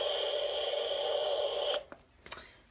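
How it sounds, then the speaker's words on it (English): Owl-shaped Let's Fit sleep sound machine plays a steady hissing white noise that stops after under two seconds, followed by a few light clicks and taps. "And then the owl plays the white noise."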